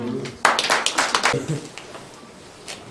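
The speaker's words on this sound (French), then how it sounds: "on applaudit" Several people in a rural village driving-school class clap briefly, a short burst of hand claps close by, with talk before it and quiet after.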